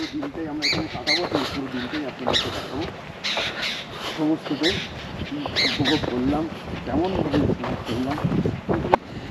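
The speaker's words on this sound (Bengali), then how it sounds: "আর এখানে পাখির আওয়াজ।" Birds chirp and call repeatedly in a jungle near the sea, with steady surf rumbling underneath.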